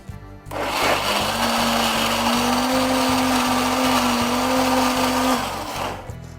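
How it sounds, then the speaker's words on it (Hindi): An electric blender grinds boiled chana dal in a steady, loud whirring drone that runs about five seconds, then cuts off abruptly. "आप देख सकते हैं कि मैं इसको दाल को पीस रही हूँ"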